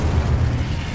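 Incendio fire spell blast in Hogwarts Legacy, a brief dense whooshing roar of flame with a deep rumbling body.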